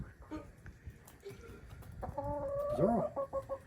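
Chickens perched in a tree clucking, soft scattered clucks early, then a louder run of squawks and cackles near the end over quiet outdoor ambience.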